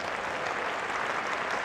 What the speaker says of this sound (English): The crowd applause.